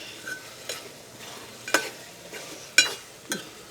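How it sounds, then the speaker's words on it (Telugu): A spoon stirs curry in a pan after salt is added, giving a few separate scraping strokes over a soft sizzle, close and moderately loud, with no voices. "మళ్ళీ కలుపుకుంటాం."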